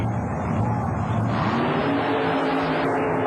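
Jeff Acker's Insanity Roadster, a super modified mud racer, blasts down an 80-foot track at a 1991 USHRA event in Anaheim: a loud, steady engine roar with a slight rise in pitch, heard close and unbroken.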